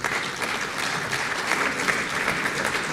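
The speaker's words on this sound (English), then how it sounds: "I want to give them a round of applause for showing you the exhibit." Steady audience applause fills a conference gathering at an archaeology exhibit in Athens, a dense, even wash of many hands clapping that carries on unbroken at moderate loudness for the whole stretch.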